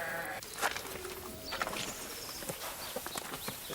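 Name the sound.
sheep bleating in the sheepfold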